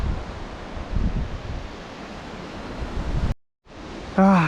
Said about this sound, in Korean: 아 바람 엄청 분다